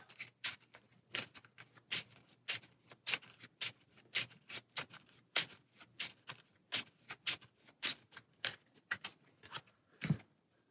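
Cards shuffled repeatedly during a solo tabletop game of Tyrants of the Underdark, a deck-building board game; a steady run of quick, crisp riffling bursts, close and fairly quiet, with no talking.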